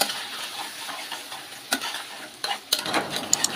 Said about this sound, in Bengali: ঢাকনাটা খুলে আবার নেড়ে চেড়ে দিচ্ছি।